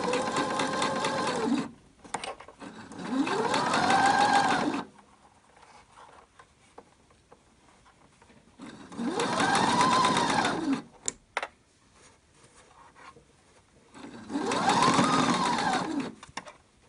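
A domestic sewing machine runs an edge stitch around a fabric face mask in three steady whirring bursts of a couple of seconds each, close and loud, separated by quiet pauses with light handling clicks.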